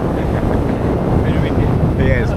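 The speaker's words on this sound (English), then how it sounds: "Very windy. Yeah, it's very windy." Strong wind roars across the microphone on a sailboat at sea, a steady loud rushing blast with water and hull noise beneath and brief faint voices in the background.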